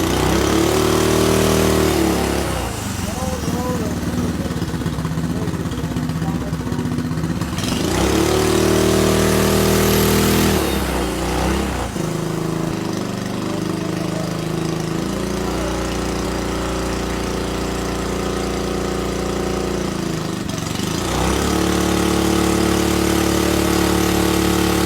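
A modified turbocharged engine running on a dyno roars loudly up close, its revs swelling and dropping in several long pulls over a constant mechanical drone, with no talking.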